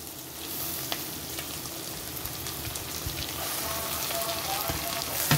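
Onion, ginger garlic paste and tomatoes fry in a pan with a steady, close sizzle and crackle that holds throughout, with faint stirring noises mixed in.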